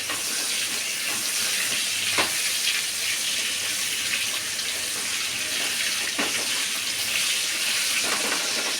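Potatoes for mutton biryani frying in a pan, a continuous even hiss of oil held at a steady level, with a few faint clinks from utensils now and then.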